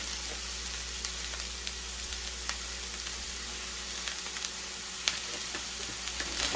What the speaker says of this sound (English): we're gonna saute this up